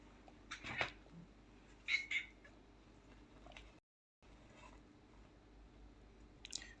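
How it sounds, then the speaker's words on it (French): An impatient cat meows faintly, two short calls in a quiet room with soft background noise. "vous entendez probablement les miaulements du chat qui s'impatiente"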